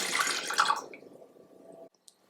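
Water poured into a medium saucepan while making a sauce for baked apples, a splashing, trickling pour that fades out after about two seconds, followed by a small drip.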